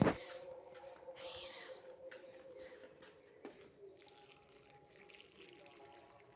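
Water is poured from a mug onto plants, starting with a brief splash and followed by a quiet, thin trickle with faint background sounds.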